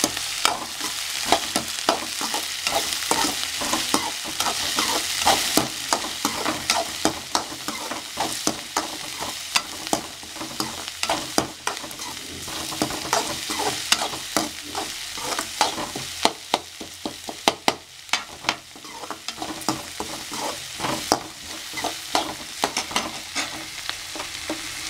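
Onion, beans and peas sautéing in a pan for a flattened rice kichidi. A constant sizzle runs throughout, broken by quick rhythmic scrapes and taps of the spoon, close up with no voices.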